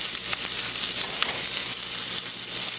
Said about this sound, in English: And then cook your beef strips.